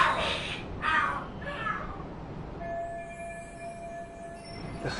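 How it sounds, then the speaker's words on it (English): Cats fight and scream in the video game Lost Judgment: several loud, yowling caterwauls in the first two seconds, then quieter background sound with a steady tone. "are there cats fighting?"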